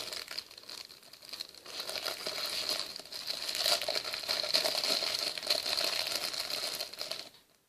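Packaging of a sheet face mask being torn open and handled, a steady crinkling and crumpling of thin wrapper close by for about seven seconds, then stopping.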